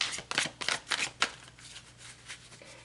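Tarot cards being shuffled, a quick run of soft riffling bursts up close followed by quieter rustling, faint and with no talk.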